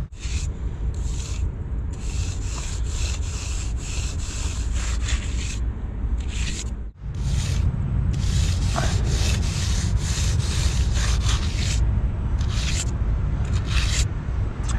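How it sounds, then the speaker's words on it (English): A float rubs back and forth over the face of freshly poured concrete steps, giving a steady, close, gritty scraping that continues without pause apart from one brief break halfway. "Again, rub the face, start at the bottom, come towards the top."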